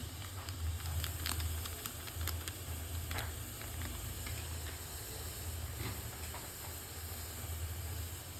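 Maggi noodles boil in a pot with a continuous low hiss and bubbling rumble, scattered faint pops and ticks, heard close and steady with no talking.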